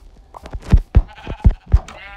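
Sheep in a blocky island-survival video game bleat four times in quick succession, loud and close, each call a short wavering cry with clear harmonics, alone with no talk.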